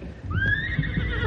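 A horse whinnies in a radio drama set amid a wolf attack, a single loud rising-and-falling neigh lasting about a second over a busy, rumbling background.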